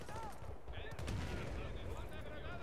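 Rapid gunfire crackles in quick bursts from automatic weapons in Battlefield: Bad Company 2, with muffled background noise throughout.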